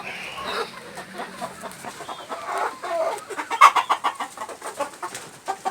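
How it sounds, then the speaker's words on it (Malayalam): Several free-range country chickens cluck and murmur close by, with a rooster-like call mixed in; the clucks grow busier and more rhythmic toward the end. "എൻ്റെ കുറച്ച് നാടൻ കോഴികളുണ്ട്"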